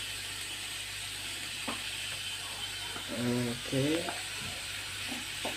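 Ginger garlic paste sautéing in a pan for a pav bhaji cheese fondue, giving a steady broadband sizzle throughout with a few faint utensil scrapes; a voice speaks briefly near the middle.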